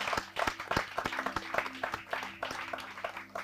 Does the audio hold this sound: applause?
yes